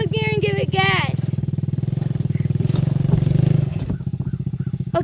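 Dirt bike in fourth gear revving hard while stuck and pulling a load, a loud close throaty engine drone that swells and holds, with people talking over it and a brief dip near the end.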